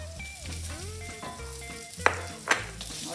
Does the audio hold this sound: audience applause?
no